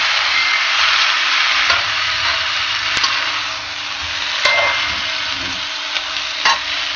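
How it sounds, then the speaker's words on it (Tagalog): Buttered garlic shrimp sizzling loudly in a frying pan while being stirred, with steady frying hiss and a few sharp utensil scrapes and clicks against the pan, close and continuous. "Paghaluin ng mabuti."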